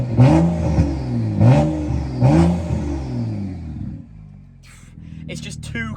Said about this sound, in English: The note that the N55 makes, I've never heard an engine like it.